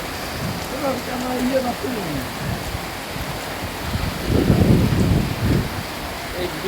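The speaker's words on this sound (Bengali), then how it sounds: "বৃষ্টিতে ভিজতে মন চাচ্ছে কিন্তু এই বৃষ্টিতে ভিজলে নির্ঘাত জ্বর হবে" Heavy rain pours steadily in a broad hiss, with people talking beneath it and the downpour swelling louder toward the end.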